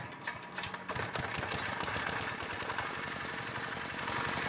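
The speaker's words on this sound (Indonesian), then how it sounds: "Alhamdulillah mesin sudah bisa hidup ya. Hidupnya gampang karena ringnya sudah diganti" A cement mixer's diesel engine, hard to start until its rings were replaced and valves reground, catches after hand cranking and settles into a fast, loud, rattling chug close by, with no talk over it.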